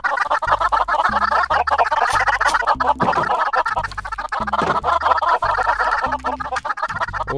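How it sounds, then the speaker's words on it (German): Chickens cluck repeatedly in the Minecraft video game, short bright clucks recurring throughout over a steady low rhythmic game backing, fairly loud, with no speech. "Alter, hier hinten sind ja richtig viele Hühner."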